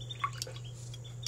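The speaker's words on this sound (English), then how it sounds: "swish your brush around in your dirty water container." Paintbrush swished in a container of dirty watercolor rinse water, giving a few small, close, soft splashy drips and taps over a low steady hum.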